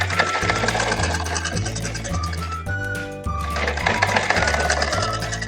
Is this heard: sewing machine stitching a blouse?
yes